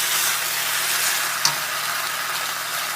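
Shrimp fried rice with broccoli fries in a hot pan, a steady, close sizzle running throughout while the food is tossed, with one brief clack partway through.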